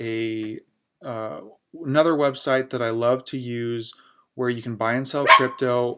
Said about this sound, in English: Sorry for that dog bark. He is a puppy and he doesn't know when to keep quiet.